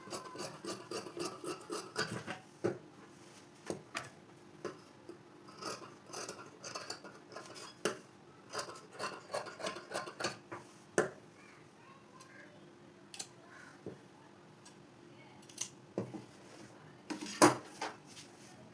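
Scissors snip through blouse fabric in a quiet room, the short metallic cuts coming in irregular bursts, some in quick runs and some sparse, with a sharper clack near the end.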